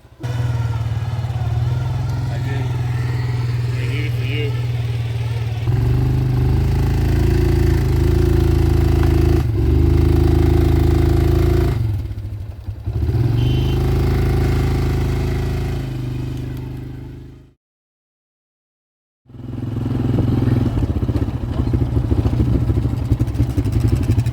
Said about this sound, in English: if you guys ever wanted to know what it looks like when a quad bike tries to mate with a tree, this is what it is